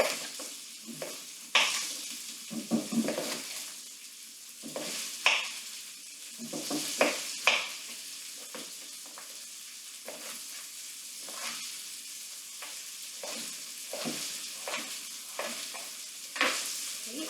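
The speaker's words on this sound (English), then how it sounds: "And I can hear that meat just sizzling" Moose meat browning in a stew pot with intermittent scraping stirs and clinks, quiet frying crackle between bursts of utensil noise.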